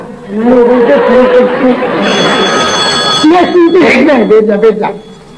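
An old-style telephone bell rings loudly through a couple of bursts while people talk over it close by.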